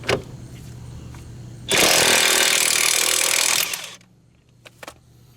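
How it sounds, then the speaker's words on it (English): An impact wrench hammers on a 5/8 bolt head during driver-side axle replacement on a 2000-2011 Ford Focus, a loud close two-second burst of rattling, then quieter tool clatter. "I'm going to hit the 5/8 bolt head"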